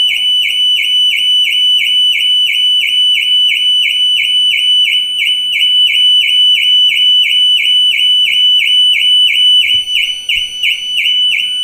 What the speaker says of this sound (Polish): Alarm dalej wyje.